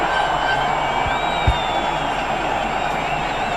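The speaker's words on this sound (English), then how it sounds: "Much for the delight of this building crowd in Dubai Sports City" A large crowd at a Pakistan vs Sri Lanka one-day international cricket match in Dubai Sports City keeps up a steady roar after a boundary, with horn-like tones and a brief thump.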